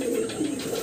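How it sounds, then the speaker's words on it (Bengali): Pure desi golla pigeons cooing, a soft low throaty coo rolling on close by with a faint chirp above, no voices. "দেখতে পাচ্ছেন পিওর দেশি গোল্লা কবুতর"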